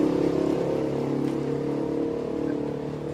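Large vehicles rumble past outside, a continuous loud engine drone that swells and fades slightly without pause.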